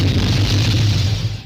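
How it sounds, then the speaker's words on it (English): A hover racing machine explodes in F-Zero GX, a loud sustained roaring burst that rumbles evenly and then cuts off abruptly. "landing near the end of the ice patches, or any farther, results in an explosion upon re-entry"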